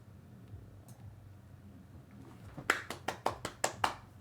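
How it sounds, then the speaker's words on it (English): A single person clapping several times in quick succession, sharp close claps after a quiet stretch of low background hum, at the close of an online racing league stream. "That's me clapping for y'all."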